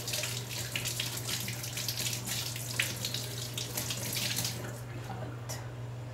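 Tap water runs steadily and close while fruit is washed under it, a continuous broadband hiss with a constant low hum underneath, no talking.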